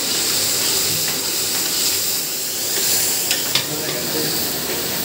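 Tomato and ground masala for a chicken gravy sizzle and hiss steadily in a hot pan while being stirred, with a few faint scrapes and clinks of the spoon over the constant frying noise.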